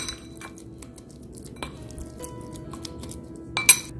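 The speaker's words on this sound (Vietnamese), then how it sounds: "Giờ Trinh sẽ trộn lên và để đây Trinh ướp trong vòng khoảng từ 15 đến 20 phút nha" Seasoned luffa gourd mixed in a bowl in a home kitchen, with soft scattered clinks and taps of a utensil against the dish and a sharper clatter near the end, otherwise quiet.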